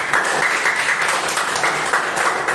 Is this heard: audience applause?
yes